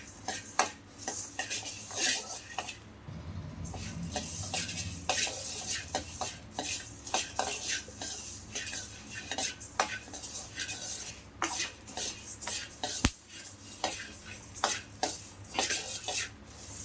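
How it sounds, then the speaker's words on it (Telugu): Coriander seeds dry roasting over low to medium heat in a pan for sambar powder: continuous rattling stirs with frequent metallic spoon clinks and scrapes against the pan, close and busy, with no talking. "ధనియాలు కూడా అలానే లో టు మీడియంలో వేయించుకోండి"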